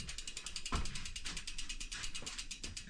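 A wrench tightens a bicycle pedal at the front of the bike, giving a steady run of rapid ratcheting clicks that lasts throughout, close and fairly loud, with one sharper knock partway in.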